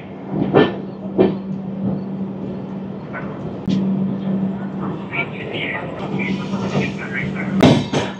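Passenger express train at Khurda Road Junction getting ready to pull out, a steady low rumble and hum with occasional metallic clanks and bangs, while people talk nearby.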